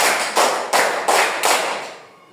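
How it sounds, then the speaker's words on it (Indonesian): Children's hands clap four times in an evenly spaced counted classroom game, bright and close, each clap loud and crisp before a short fading tail. "Tepuk satu, tepuk dua, tepuk tiga, tepuk empat"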